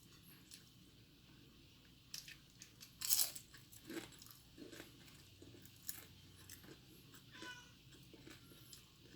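A cat crunches and chews food up close, with wet smacking bites and a brief meow mixed in, no talking.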